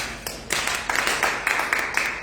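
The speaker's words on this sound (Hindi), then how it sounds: "उस प्रभु के लिए ताली बजाए भाई" An audience claps for the Lord at a church gathering, a rhythmic series of bright, fairly soft hand claps repeating at a steady pace.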